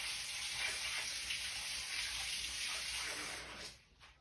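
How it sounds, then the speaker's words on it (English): Tap water runs into a kitchen sink while hands are rinsed, a steady close hiss that stops abruptly near the end. "I'm going to rinse my hands real quick."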